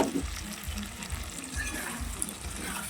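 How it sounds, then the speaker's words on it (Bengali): Boiled potatoes frying in spice masala in a pan, giving a steady low sizzle with faint stirring, close and quiet throughout. "যে আমি সেদ্ধ করে রেখেছি আলুগুলো সেগুলো দিয়ে খুব সুন্দর করে ভেজে নেব"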